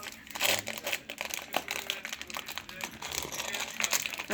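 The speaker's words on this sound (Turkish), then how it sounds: "Hemen oyuncağımı açıyorum." Plastic wrapper crinkles and crumples loudly up close as a child struggles to open a surprise toy egg, with a young voice speaking over the rustling.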